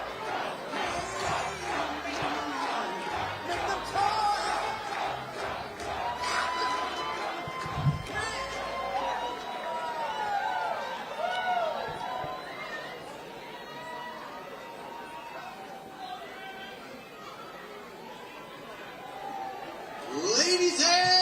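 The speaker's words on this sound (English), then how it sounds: "As the crowd gets fired up for Trump." At a Trump campaign election-night watch party in South Carolina, a crowd cheers and chants continuously, with shouts and chatter throughout and a swell in loudness near the end, heard from within the room.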